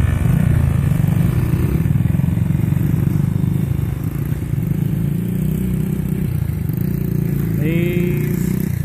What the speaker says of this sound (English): Carson Ray's dirt bike ride.